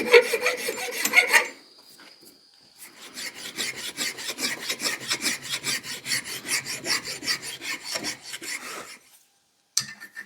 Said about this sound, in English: just clamp this in the vise and start shaping this down with the files